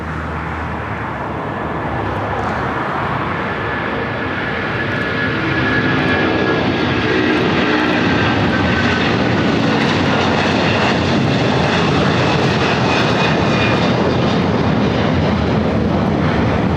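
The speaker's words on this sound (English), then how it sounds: "A330 now rolling down at 25 left." An Airbus A330 jet rolls down runway 25 Left at Los Angeles International Airport, a loud, steady broadband engine roar that swells in the first few seconds and then holds strong and close.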